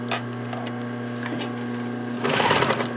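A sewing machine stitches down zipper yardage for a small bag, with a close steady motor hum and fast needle rattle that grows louder and busier toward the end.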